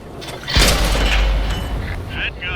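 A tank cannon fires in World of Tanks on Xbox One, a deep booming blast that rumbles on for about a second under continuous game noise, followed by faint mechanical clanks.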